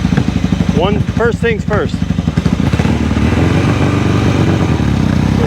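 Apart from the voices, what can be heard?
Kawasaki KZ750 motorcycle engine running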